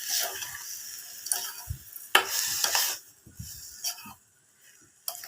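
Food frying and being stirred in a pan while making a coconut pitha gravy, with intermittent scraping and clinking strokes, brief bursts of sizzle, and a short quiet gap before a final knock.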